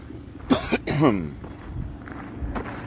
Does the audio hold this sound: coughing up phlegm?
yes